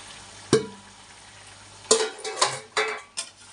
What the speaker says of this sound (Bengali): এখন আমি চিকেনটা ঢেলে দেব চিকেন দিয়ে দিলাম